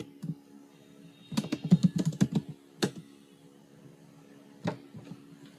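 Clusters of crisp keystrokes on a computer keyboard while an address location is entered into an online GST registration form, a quick run of taps followed by a few isolated clicks in a quiet room.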